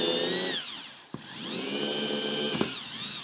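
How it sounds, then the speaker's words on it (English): A power drill spins up and drills a hole through a 3D-printed drill jig into a revolver part, a steady close whine that briefly dips and catches, then resumes at full speed. "With light pressure, I can drill this hole."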